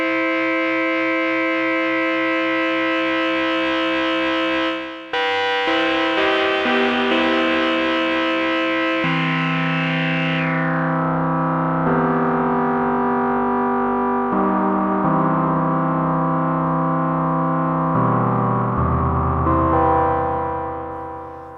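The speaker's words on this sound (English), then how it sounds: "We can do audio rate sort of FM on the filter rather than FM of oscillator 1." Sequential Take5 polyphonic synth with oscillator 2 frequency-modulating the filter at audio rate, giving a loud, buzzy, siren-like tone with dense metallic overtones, a brief break near five seconds, then shifting sustained notes whose brightness drops partway through.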